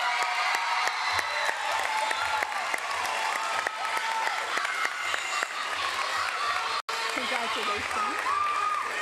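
Audience applause at a school awards ceremony, steady dense clapping from a crowd lasting throughout, with a brief cut near the end and some voices mixed in.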